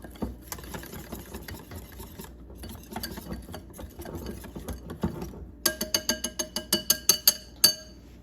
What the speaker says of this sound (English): So milk's gonna kind of go in. Give that a little whisk up.